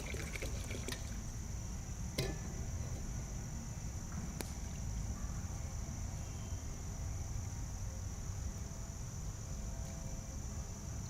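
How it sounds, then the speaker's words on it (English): Hot water is poured during outdoor camp cooking at a rustic Viking-style campsite, a steady close liquid wash running through the whole stretch with a couple of brief clinks, and no talking. "I'm just going to add a little bit more hot water."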